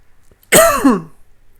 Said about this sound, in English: I have these coughing attacks.